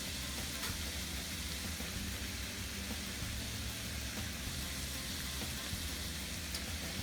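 Garlic and dried thyme sizzle in a pan for shepherd's pie, a quiet, steady hiss and crackle of frying that runs continuously without talk.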